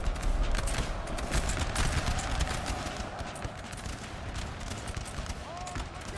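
Dense, continuous crackle of musket volleys and artillery fire from a large 4v4 Napoleon Total War battle, steady and loud throughout with no clear gaps.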